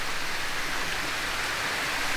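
At night, the main waterfall at Ferne Clyffe State Park sends up a steady, dense rushing hiss of falling water that carries on without a break and without voices.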